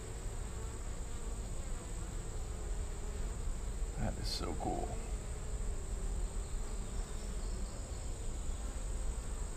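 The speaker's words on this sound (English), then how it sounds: "The bees are just super busy." A steady buzz of a busy swarm of bees inside a barn wall hums continuously at a distance beneath a brief spoken remark.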